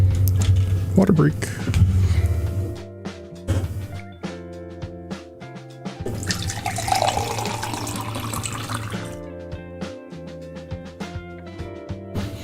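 Water pours into a vessel during a short break in a livestream, a running, filling splash under ongoing talk and music, with the flow easing and starting again.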